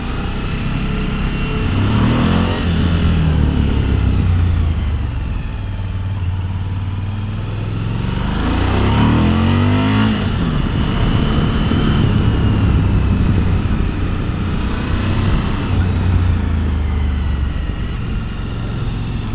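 A Suzuki V-Strom 1000 motorcycle rides through curves, its engine droning loudly and continuously, rising and falling in pitch as it accelerates and eases off.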